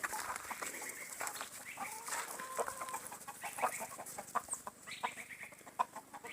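A flock of backyard hens and a couple of roosters cluck and chatter, with overlapping calls and squawks, some near and some farther off, building into busier bursts of clucking.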